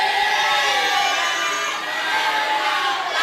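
Supporters of a candidate pair at a live regional election debate for regent and deputy regent in Indonesia cheer and shout in a loud, continuous crowd roar filling the hall.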